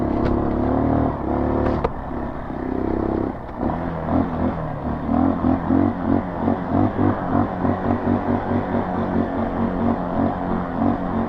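An off-road vehicle driving through sand revs its engine loudly, the motor surging in bursts and then settling into a steady, pulsing throttle, close and without talking.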